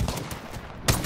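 The Mastiff shotgun in Apex Legends fires close and loud in quick blasts, with a final heavy boom near the end of a brief burst of combat noise.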